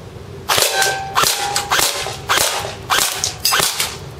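An H&K Ares G36c airsoft rifle firing semi-automatic at a can, about seven sharp cracking shots at a steady pace, each with a faint metallic ping, close and loud with no talk.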